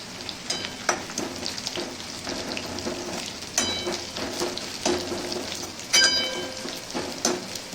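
Oil crackles and sizzles steadily up close as a dry red chilli fries with garlic-cumin paste, punctuated by sharp pops and a few scraping stirs.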